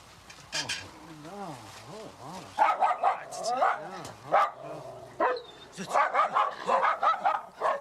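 Someone's dogs bark and let out rising, wavering howls and yips, sounding agitated at what they take for an arch enemy, a snow tiger, in a close, busy burst with brief voices mixed in.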